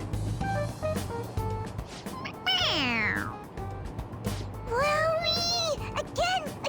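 Toy cat meowing when its head is pressed in the video game Persona 5 Royal, two distinct synthetic meows with a low hum beneath, fairly loud and close.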